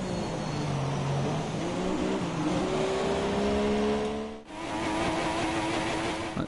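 Race car engine held at full revs in a Formula 3 style racing video game at Hungary, a loud continuous droning whine with shifting tones, briefly dipping once before resuming.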